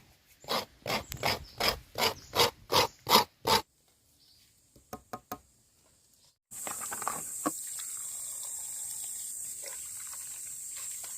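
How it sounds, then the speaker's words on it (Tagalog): Coconut meat rasped against a homemade bamboo grater: a run of about ten rhythmic scraping strokes, then a few softer ones, followed by a steady hiss of background noise. "Gawa pala sa kawayan ang kayuran na iyan."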